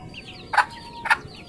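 A family of chickens cluck twice in short, close calls while pecking at feed, over a quiet background.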